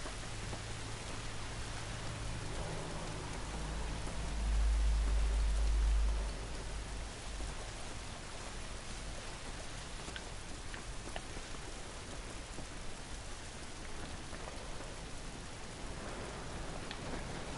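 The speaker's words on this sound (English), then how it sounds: "It's raining." Steady rain hiss in the video game The Last of Us, constant and moderately loud, with a brief low rumble partway through and no voices.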